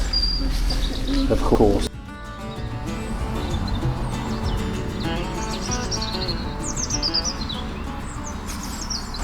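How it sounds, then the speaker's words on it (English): Birdsong from overhead along a canal walk under a bridge, with repeated bright chirps and trills continuing over background ambience after a brief spoken word at the start. "that was a really nice little bit of bird song there, and we've got it above us now"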